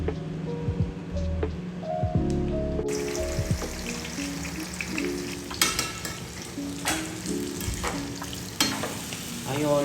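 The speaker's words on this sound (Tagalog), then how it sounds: "Ayun, luto na yung ginisang kamatis." Tomatoes sautéing in a frying pan give a steady close sizzle, with repeated scraping and stirring strokes against the pan and brief clanks of a spatula.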